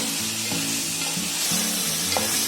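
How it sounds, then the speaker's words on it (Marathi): Paneer cubes being stirred into a frying vegetable mix in a pan, with a steady sizzle and repeated scraping strokes of a spoon at a loose rhythm, close and alone without speech. "आता पनीर आहे ना थोडा असा भाजीमध्ये ढवळून घ्यायचा मिक्स करून"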